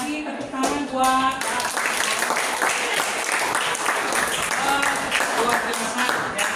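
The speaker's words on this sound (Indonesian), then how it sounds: "tepuk tangan buat" An audience at a school teaching-practice event applauds, a room of hands clapping steadily at moderate loudness, with a voice briefly heard near the start before the clapping carries on alone.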